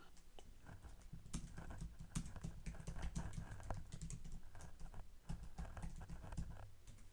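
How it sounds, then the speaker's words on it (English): Rapid, uneven clicking of keys on a computer keyboard as a credit card name is typed into a spreadsheet, soft and close, in irregular bursts with no voices. "So I'll type that name in place of the placeholder of credit card number 1."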